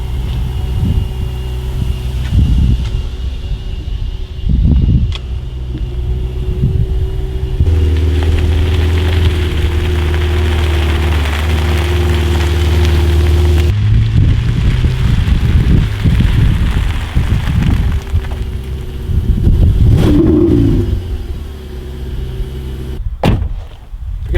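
A car engine running a little rough, heard close as an uneven rumbling idle with irregular knocks and clatters, a firmer steady hum in the middle stretch, and some rustling noise around it.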